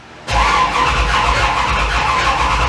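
Dodge 417 stroker engine in a first-generation Dodge truck cranks over on the starter, kicking in abruptly as a loud, close, steady churning drone that continues to the end.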